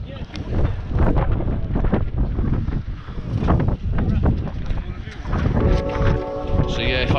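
Strong, cold wind buffets the microphone while riding a Yamaha Blaster as rain starts, a steady roaring rumble, with a person talking under the gusts.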